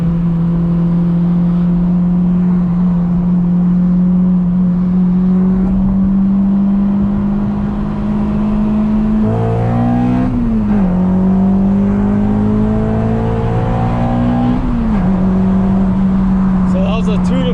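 A Honda Civic Si fitted with a Fullrace downpipe and exhaust accelerates hard in second gear on a highway, with a loud, steady engine drone rising in pitch, then a shift partway through as the revs drop and climb again.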